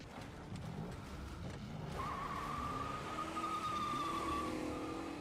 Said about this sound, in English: Lara steals someone's sports car and gives chase.